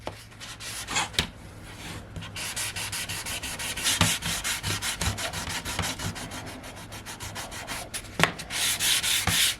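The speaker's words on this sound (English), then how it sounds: "Now I'm going to use my little sanding block to clean it up a little." Steady back-and-forth scraping of a sanding block rubbing across the wood of an Ibanez Gio electric guitar under restoration, a continuous rasping texture with a few sharper knocks, close and fairly loud.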